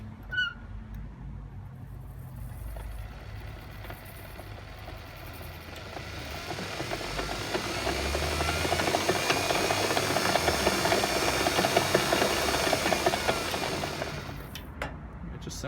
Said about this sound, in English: Sounds like it's disconnected the gearbox from the motor